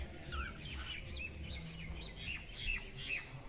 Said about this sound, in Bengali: আর পাখিগুলো দেখো ডাকছে